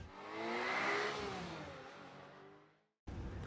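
A Cadillac Escalade's 6.2-liter V8 revs up loudly and alone, swelling to a peak before falling away into a brief silence, then returning with a steady idle-like rumble.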